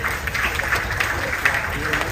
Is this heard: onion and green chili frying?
no